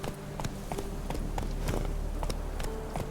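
Hooves of the horse Roach trot in a steady clip-clop rhythm across ground in The Witcher 3, repeated sharp taps over a low ambient bed, moderately close with no talk.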